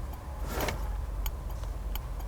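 Indicator relay on a Ford Mustang Fastback GT-500e clicking, sharp ticks repeating at a steady pace over a low idle-like background hum, close and fairly distinct.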